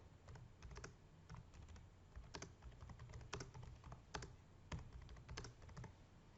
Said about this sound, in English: Double click on it again and just type find food when you need it.